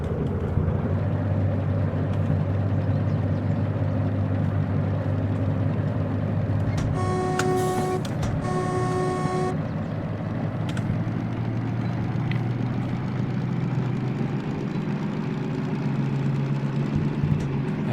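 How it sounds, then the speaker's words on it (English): A DM3 locomotive idles and runs in the train game Derail Valley, a continuous low diesel drone steady throughout, with a brief tonal beeping chime partway through. "Engine turned on."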